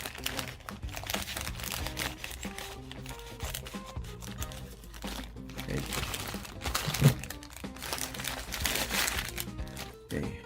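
Plastic packaging from a pair of Bolle IRI-S diopter safety glasses crinkles and crunches in quick, irregular bursts, close and moderately loud throughout.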